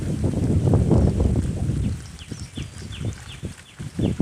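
A morning breeze blows over a bitter gourd field, gusting and buffeting the microphone with a loud rumble for the first two seconds, then easing into softer puffs, with faint high chirps in the background.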